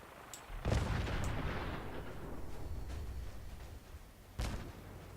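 Vertibird being shot down with a 10mm pistol in a Fallout game, with sharp gunshot cracks followed by heavy booming explosions and a long rumbling decay, then another loud blast near the end.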